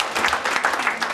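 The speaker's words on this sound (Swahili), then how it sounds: "Tupigie simu makofi kwa jina la Yesu." A short burst of applause from a group, a brief patter of clapping at moderate volume.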